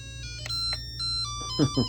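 A bedroom sidelamp's alarm clock plays an electronic tone, several short melodic beeps one after another, close and clear, with faint voices at the end.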